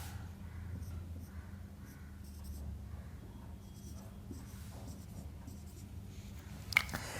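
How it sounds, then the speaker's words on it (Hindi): Pen or pencil writing numbers by hand on paper, soft scratchy strokes running steadily and faintly through a quiet room with low background hum. "उसके बाद मैं ये सारे नंबर यहाँ लिख लेता हूँ"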